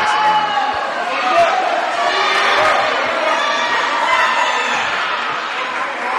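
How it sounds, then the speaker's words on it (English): A crowd at a high school wrestling match between Los Banos and Pacheco roars and cheers continuously, with a commentator talking over the noise. "The crowd goes wild."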